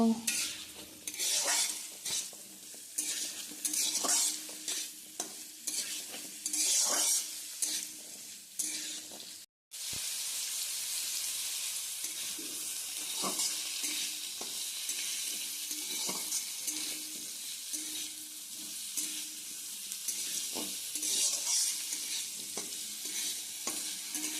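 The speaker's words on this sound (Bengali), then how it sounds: "এরপর আমি ভালোভাবে পেঁয়াজ আর আলুটাকে তেলের মধ্যে নাড়াচাড়া করে ভেজে নেব" Onion and potato pieces stirred and fried in oil for a soybean dish, a steady sizzle broken by repeated scraping stirs of a utensil against the pan, with one brief pause before the frying continues.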